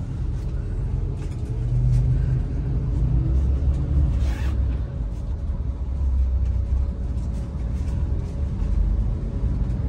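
Inside an Mtrans bus travelling from Denpasar toward Ketapang, a steady low engine and road rumble fills the cabin with a continuous drone and faint rattles throughout.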